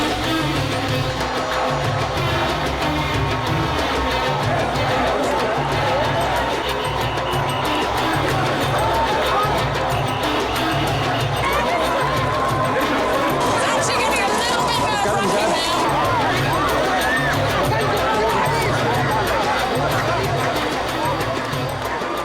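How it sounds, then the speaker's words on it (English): A dense, chaotic crowd at a religious procession in Egypt churns in loud, continuous babble with shouting as fighting breaks out near a barrier. Voices overlap throughout, with no single speaker standing out. "They're trying to control the crowd with a barrier here, but it looks like fighting's breaking out."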